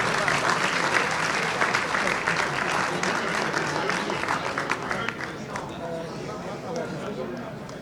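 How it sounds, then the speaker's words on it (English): A crowd in the Ziegfeld Ballroom at a Greek Independence gala breaks into dense, sustained applause with cheering voices mixed in, gradually tapering off. "a round of applause for the Metropolitan Chrysostom"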